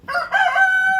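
A farmyard rooster lets out a single close, loud crow with a rough start that settles into a sustained, strongly pitched tone lasting about a second.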